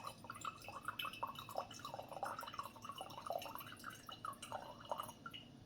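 Water poured over coffee grounds on a metal and glass coffee scale for a second pour, a soft continuous trickle and patter with small drips, quiet and close, with no talking.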